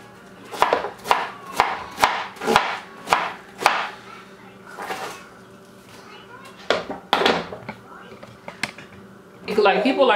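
Cabbage being chopped into small chunks on a board, a series of sharp regular knife thuds about twice a second, then a pause and a few more irregular chops, fairly close and loud.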